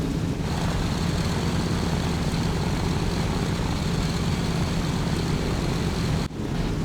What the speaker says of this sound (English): Put your flaps up. Yeah, now we're flying. Let's go, the AC-130.